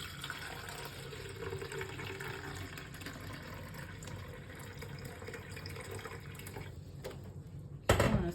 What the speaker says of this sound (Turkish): Şimdi makineyi normalde kullanıyormuş gibi içine su koyuyoruz.